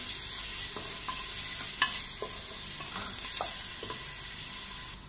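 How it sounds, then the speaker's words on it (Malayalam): Onions with ginger-garlic paste sautéing in a pressure cooker, a steady soft sizzle with scattered light scrapes and stirring taps throughout, close and alone with no voices. "ഇതിലേക്ക് ആ എടുത്തു വെച്ചിട്ടുള്ള ഇഞ്ചി വെളുത്തുള്ളി പേസ്റ്റ് ഒന്ന് ചേർത്ത് ഒന്ന് വഴറ്റിയെടുക്കാം."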